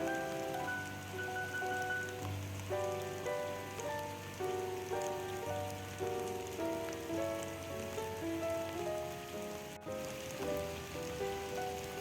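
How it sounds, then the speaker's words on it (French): Steady outdoor rain patters down on surfaces for a continuous stretch, even and moderately soft, while a quiet layer of soft music plays underneath. "Petite ASMR pluie pour vous."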